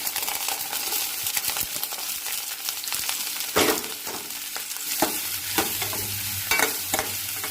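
Chillies, coriander leaves and cut vegetables frying in a pan, with a continuous sizzle and repeated scraping stirs of a spatula, a few sharper clinks in between and no voices.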